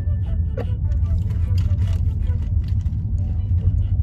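Car on the road, heard from inside the cabin as a steady low engine and tire rumble throughout, with faint soft speech in the background.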